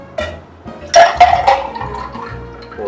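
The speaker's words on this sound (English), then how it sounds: "Pour it in." Bloody Mary mix poured into a glass and rolled back and forth, a close gurgling, splashing stream of liquid with short bursts and a filling sound, loud and alone without talk.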